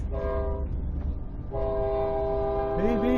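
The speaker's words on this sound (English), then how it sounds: "I have to wait for the train." A CNR main line train sounds its horn in long sustained blasts beside Highway 14 in Saskatchewan, pausing briefly before blaring again, with a low rumble of the passing train underneath.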